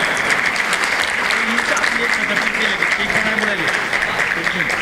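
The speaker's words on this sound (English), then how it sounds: "round of applause guys" A crowd at a startup pitch event in Nashik applauds participants called onto the stage. The clapping is loud, dense and sustained, with some voices and cheers running underneath.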